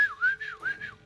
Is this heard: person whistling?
yes